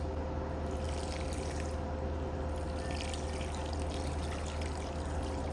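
Sauce pours steadily over a ramen boil of ramen noodles, andouille sausage and hard-boiled eggs, giving a continuous close liquid splashing and trickling under a constant low hum.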